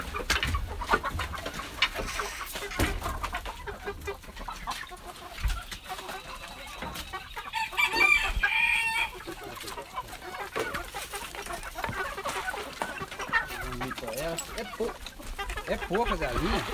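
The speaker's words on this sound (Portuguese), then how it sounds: "Agora, pessoal, vou tratar minhas galinhas." Chickens cluck steadily around a small family farm, with a rooster calling out among the hens, while people talk close by over the continuous flock noise.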